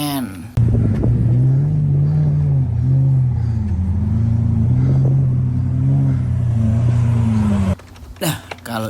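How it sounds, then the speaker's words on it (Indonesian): A toy sports car gives off a loud, steady engine drone that runs almost the whole time, wavering slightly in pitch like revving, before cutting off near the end, followed by a few short clicks and knocks. "kita punya mobil sport car teman-teman"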